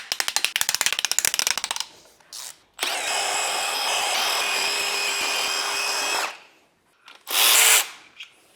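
A power tool whirs in bursts while backing T45 bolts out of the side of a BMW E92 M3 V8 engine: a rapid rattling impact burst, a sustained loud spin of several seconds, then a short final whir, close and alone.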